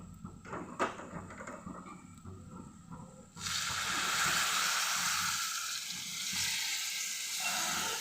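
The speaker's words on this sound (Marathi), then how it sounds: "ते पाणी यामध्ये टाकून घेते" Hot water pours into a hot pan of vegetable curry with a sudden loud hiss and sizzle that continues steadily, after some quiet clattering.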